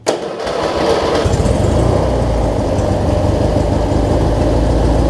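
A Briggs and Stratton opposed twin engine on a lawn mower, just fitted with a new fuel pump, cranks and catches almost at once, then settles into a loud, steady, close idle.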